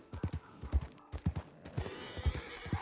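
Horses in the Red Dead Online video game, hooves clip-clopping in quick irregular steps close by, joined by a neigh and snorting, with no talk over them.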